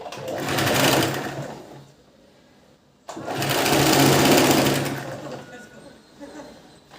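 Sewing machine stitching two layers of blouse fabric together for a princess-cut blouse, running in two loud, steady bursts of about two seconds each, separated by a short quiet pause.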